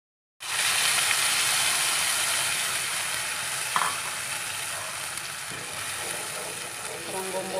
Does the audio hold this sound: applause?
no